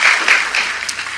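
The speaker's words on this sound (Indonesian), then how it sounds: "tepuk tangan dong" Audience applause at a Christian church sermon, a brief burst of dense clapping that fills the short moment and tapers slightly toward the end.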